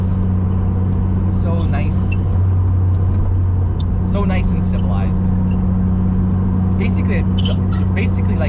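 Turbocharged K20-powered 8th-gen Honda Civic Si cruising steadily in sixth gear, a constant low engine drone and road rumble inside the cabin while a person talks over it.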